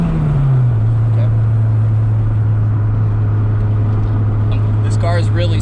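Honda Civic EK hatchback on budget coilovers cruising slowly at about 30 mph, a steady low engine drone and road noise throughout, with brief higher noises near the end.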